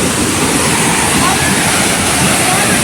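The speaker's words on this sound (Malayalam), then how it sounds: "നല്ല അടിപൊളി വെള്ളച്ചാട്ടം" The Haritheerthakkara waterfall in Sreenaduvil, Kannur roars as a dense, loud, unbroken rush of falling water close by, steady from start to finish.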